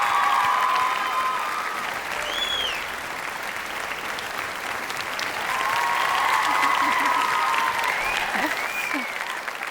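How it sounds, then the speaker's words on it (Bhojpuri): Sustained, enthusiastic applause from a live studio audience at a comedy talk-show taping as a guest is called up to the stage, steady and loud for the whole stretch with some brighter tonal touches above the clapping. "एक बार जोरदार ताली के साथ विराट बाबू के बुलावल जाए स्टेज पे।"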